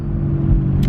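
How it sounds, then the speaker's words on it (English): A BMW 440i fitted with a catless downpipe and Stage 2 tune rumbles loudly and steadily, a deep close exhaust drone with a short rise in revs near the end. "This car is way too loud."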